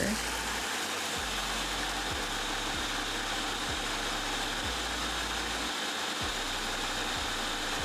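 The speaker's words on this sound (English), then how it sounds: "in a food processor, I'm gonna blend up the graham crackers and I'm going to add butter" Graham crackers and butter whir in a food processor, a loud steady motor drone with a rhythmic pulsing thump as the blade churns the crumbs, running continuously throughout.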